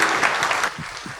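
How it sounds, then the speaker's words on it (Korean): Applause from a church audience at a hymn worship service, a burst of many hands clapping loudly that thins out and fades after a moment. "큰 박수 부탁드립니다."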